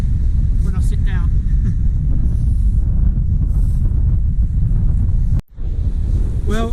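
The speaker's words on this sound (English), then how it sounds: "So that wind's definitely calming down" Steady, loud wind buffets the microphone on a North Norfolk beach at Cley, with surf rumbling underneath, one brief dropout, and faint voice-like sounds near the end.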